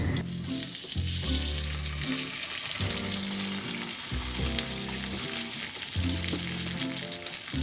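Fish frying skin-side down in a pan, a loud continuous sizzle with bursts of spitting oil and pulsing, uneven crackle, close up and with no talk.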